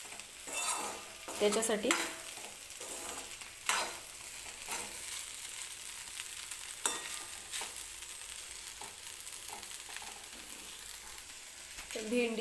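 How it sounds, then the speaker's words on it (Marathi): Okra (bhendi) fries in a pan with crushed peanuts while a utensil stirs it. A soft, continuous sizzle is broken by repeated scraping and clinking strokes, with one brief spoken word. "परत मी भेंडी शिजवून घेणार आहे"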